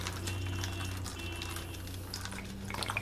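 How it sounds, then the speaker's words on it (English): A thin stream of tap water runs steadily straight down into a basin, a soft continuous splash under a low background hum, with no talking. "we'll let the stream of water roll straight down"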